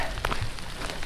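Brief patter of rain falling steadily on a trail during a long-distance trail run, soft and even with a few slightly sharper drop taps.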